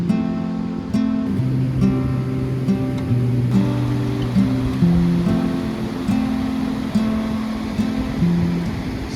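A mountain river or stream rushes steadily along a trekking trail on the Hampta Pass route near Manali, a continuous broad wash of flowing water with a droning tonal layer running over it.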